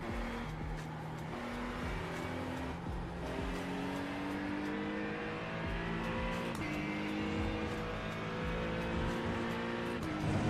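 A race car in the iRacing simulator, a GT3 or GTP on the Long Beach or Mugello track, drives hard with rising and falling engine whines through shifts and braking, its tone continuous and moderately quiet.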